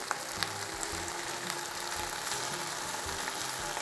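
Barbecue chicken sizzles in a pan as it is coated in a spicy sauce and browned, giving a steady close frying hiss with occasional faint pops and no talking.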